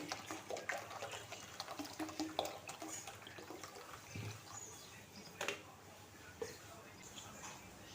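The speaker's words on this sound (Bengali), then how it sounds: "ঠান্ডা জল দিয়ে দিচ্ছি" Cold water pours into a summer sherbet drink, making a close splashing, trickling sound with faint drips and uneven bursts.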